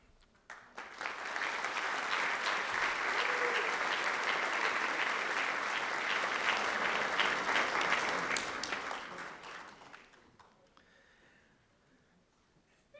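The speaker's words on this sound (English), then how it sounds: "they're the ones that are going to get the applause" An audience at a scholarship award ceremony claps for the top scholarship recipient, a sustained, full round of applause for about nine seconds that then thins out and fades to near quiet.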